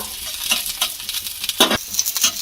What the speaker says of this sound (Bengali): ছোট্ট মতো একটা পেঁয়াজ দিয়ে দিলাম। পেঁয়াজটা যখন হালকা একটু ভাজা হয়ে যাবে বা নরম হয়ে যাবে